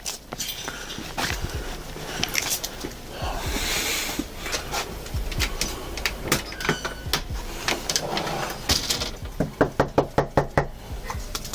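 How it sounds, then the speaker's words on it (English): Police officers knock hard on a house's front door during a welfare call, a quick series of loud knocks near the end following a stretch of busy background noise. "After knocking on the door and announcing themselves multiple times"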